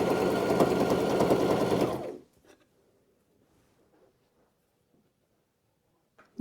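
A home sewing machine runs in a fast, steady whir for about two seconds during cloak making, then stops abruptly, leaving near silence with a couple of faint clicks.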